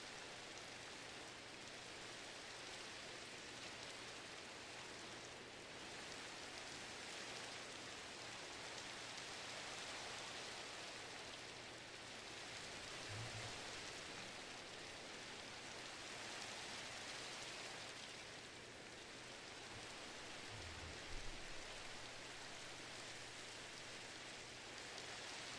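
Steady rain pours down in the blocky game world of Minecraft with the Cobblemon mod, a dense, even hiss that holds unbroken at moderate loudness, with a couple of faint low bumps partway through and no voices.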